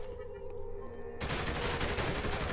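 Gunfire in the video game Saints Row The Third: a loud, dense, sustained burst of shots cuts in abruptly partway through after quieter game ambience and continues to the end.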